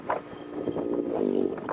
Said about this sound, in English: The slight whine of the motor,